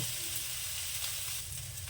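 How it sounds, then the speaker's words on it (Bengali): Kalai greens frying in a pan with broken-up lata fish, a steady, even sizzle that stays faint and continuous with no voices. "মাছগুলো একটু ভেঙে চুড়ে দিয়ে শাকটাকে ভাজা করব"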